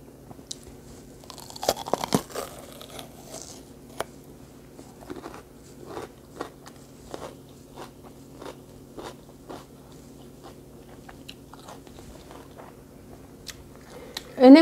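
Crunchy raw paprika bitten and chewed up close, a series of sharp crisp crunches and wet chewing clicks spread irregularly over several seconds, with a louder burst near the end.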